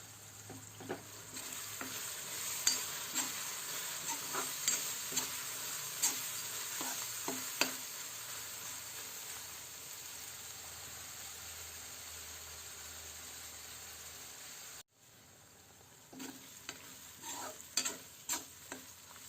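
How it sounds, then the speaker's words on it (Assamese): Spoonfuls of ground meat masala, cumin powder and garam masala frying in a pan for a soybean curry, a soft hiss broken by about a dozen sharp scraping stirs, with a brief drop in sound near the end. "মিট মছলাৰ গুড়ি এচামুচ, জিৰাৰ গুড়ি এচামুচ, গৰম মছলা এচামুচ। এইখিনি এতিয়া ভাজি ল'ম।"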